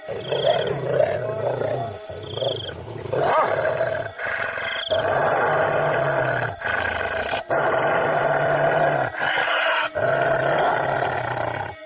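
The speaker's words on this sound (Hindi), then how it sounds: "तभी झाड़ियों में से किसी के गुर्राने की आवाज आने लगती है।" Menacing animal growls and roars rumble out of bushes in a Hindi werewolf cartoon, loud and sustained across the clip with short breaks, layered over dense dramatic music with no talking.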